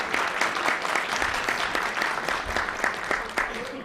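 Applause from a press club luncheon audience, a full, sustained roar of clapping with individual claps audible, fairly close and even throughout, with faint voices mixed in.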